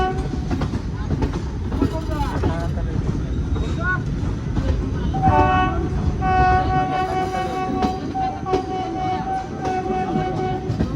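An Indian passenger train running late rolls along the track toward Bilaspur, a continuous rumbling clatter with rhythmic wheel knocks and brief tonal squeals or horn-like notes mixed in.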